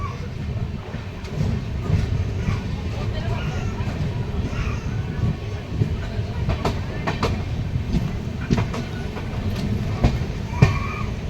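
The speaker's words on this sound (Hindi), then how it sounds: "तो ट्रेन हम लोगों की अब चल रही है रकाबगंज के पुल की दिशा में, लखनऊ सिटी स्टेशन की दिशा में।" A passenger train runs on the tracks near Lucknow, heading toward the Rakabganj bridge and Lucknow City station. A steady low rumble carries rhythmic clickety-clack of the wheels on the rail joints throughout, with faint voices in the background.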